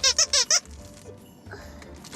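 Squeaky candy cane dog toy with crunchy filling squeezed four times in quick succession, loud and close, followed by a quieter stretch of faint handling noise.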